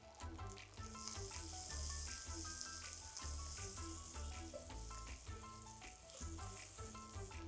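Asafoetida is added to hot oil already frying shallots and garlic, and it gives a steady, bright sizzle with crackling and popping throughout, close up and continuous, with no voices.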